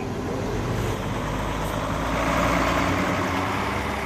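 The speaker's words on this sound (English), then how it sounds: "Start your engine." A convoy truck's engine runs with a steady, loud low rumble and slight swell, heard alone without voices.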